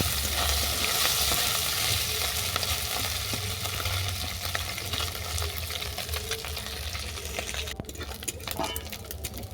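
Fish fries in hot oil while being browned on both sides, a continuous close sizzle with bubbling crackle and occasional utensil scrapes and taps as it is turned, no talking.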